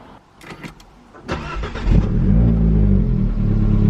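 An Abarth 124 Spider, just fitted with upgraded coil packs, cranks with a few clicks and catches, its engine starting with a burst of revving before settling into a loud, steady idle close by.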